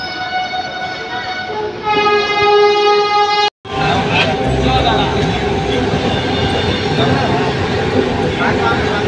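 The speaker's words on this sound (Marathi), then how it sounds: "मंडळी आपली ट्रेन आलेली आहे।" A metro train arrives at a station, sounding a sustained tonal horn before a sharp cut, then a loud, continuous rumble of the moving carriages.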